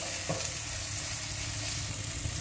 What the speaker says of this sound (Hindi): अदरक लहसुन को थोड़ा सा पकाएंगे ताकि इसकी खुशबू जो है वो आ जाए